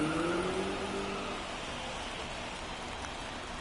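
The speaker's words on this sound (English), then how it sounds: "The rain is pouring here in Chicago." Pouring rain at a Chicago ballpark in MLB The Show 24, a steady broadband hiss that holds through the clip, with a faint tonal hum at the start and no talk.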